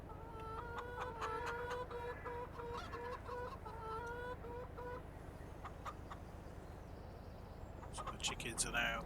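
Chickens cluck in a Farming Simulator small farm, a steady run of repeated clucks and calls over a low hum of game ambience, with a few louder bird calls near the end.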